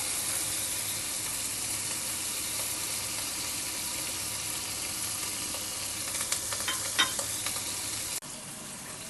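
Mixed vegetables sauté in a pan with a steady, close sizzle and hiss, broken by a few stirring scrapes near the end.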